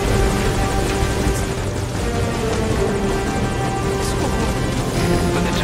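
Helicopter in the video game Metal Gear Solid V: Ground Zeroes, a steady dense rotor and engine drone that fills the whole stretch at constant loudness, with no speech over it.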